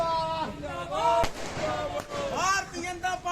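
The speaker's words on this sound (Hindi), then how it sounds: "जांजगीर चांपा के लोगों ने आतिशबाजी की और एक दूसरे को मिठाई खिलाई" Celebratory firecrackers go off among a crowd in Janjgir-Champa, two sharp loud pops cracking out over lively voices, with people talking and calling throughout.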